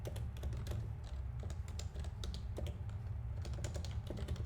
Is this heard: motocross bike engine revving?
no